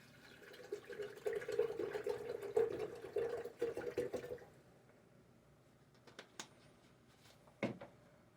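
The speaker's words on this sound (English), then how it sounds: "Put water in here." Water pours steadily into a bottle, a gurgling, rising fill for about four seconds, then stops; a few faint knocks and a brief thump follow in near quiet.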